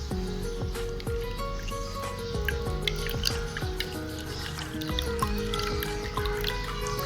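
Blended cucumber juice is strained with water, giving wet squishing and a stream of close, irregular drips and trickles throughout.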